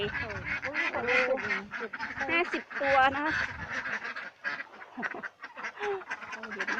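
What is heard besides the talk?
laying ducks quacking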